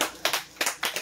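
Someone at a birthday celebration claps a few times, sharp, close hand claps in an uneven rhythm over a short moment.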